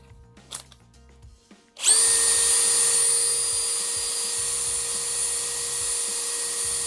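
A power drill with a 3/16 bit bores out a rivet hole for a DIY carry belt, spinning up sharply to a loud, steady high whine that runs continuously to the end.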